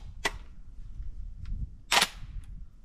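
An AR-12 shotgun has a round chambered on a turkey hunting range, heard as two sharp close metallic clacks, a small one and then a louder one about two seconds later, with faint handling ticks between them.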